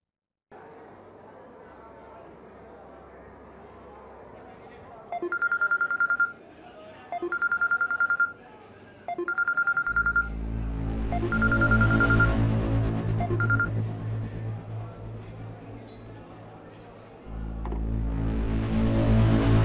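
A telephone being dialed, heard as short repeated tone bursts, then a steady ringing tone with a louder hum, mixed in with people talking in a scene from a Pakistani TV drama.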